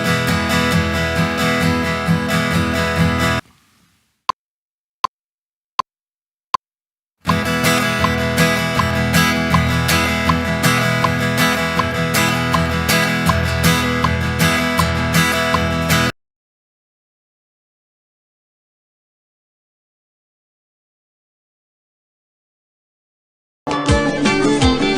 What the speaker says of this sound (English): just 1E into 2E into 3E into 4E into 16 note strumming pattern with no accents